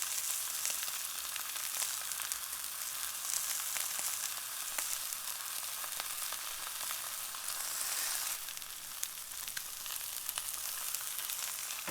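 Mackerel fries in a pan with a steady, fine crackling sizzle that holds throughout and swells slightly near the end, close and moderately quiet with no talk.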